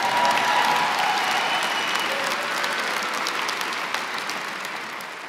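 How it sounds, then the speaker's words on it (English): Steady applause from an audience at a business-programs commencement ceremony fills the whole stretch, a dense wash of clapping that slowly tapers off toward the end. "Give a big round of applause for these guys."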